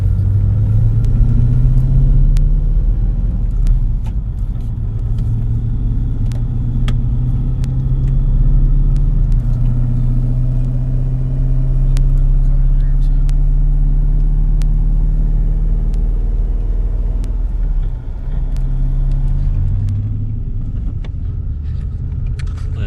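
A Cadillac CTS-V's engine rumbles deeply while driving, with the low drone rising and falling in pitch through gear changes and shifts in throttle, heard from inside the car.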